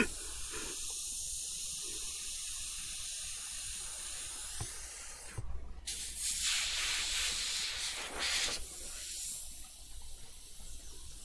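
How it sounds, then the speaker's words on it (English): An airbrush sprays thick paint onto a Baby Groot figure in short hissing bursts, with quiet gaps between bursts. "I need to spray just a little bit better."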